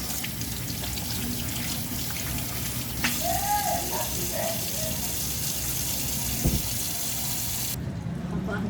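Kitchen tap water runs steadily into a sink as cake-baking utensils are washed up with a scrub pad and dish soap, a continuous close hiss with a few faint clinks and splashes.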